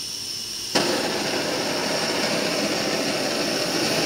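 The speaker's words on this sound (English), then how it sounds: "Let's go ahead and fire this baby up. Okay, let's fire up MSR. Let's get our flame back." An MSR camping stove burner ignites with a sudden whoomp, then roars with a steady, loud, broadband jet-like hiss that continues unbroken at close range, with no voices.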